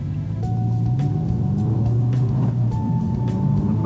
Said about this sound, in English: Focus is a lot faster on this road than most cars.